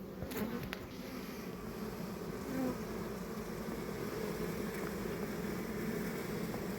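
Honey bees hum in a dense, steady drone around hive frames while queen cells are being reared, the buzzing close and continuous throughout with no voices.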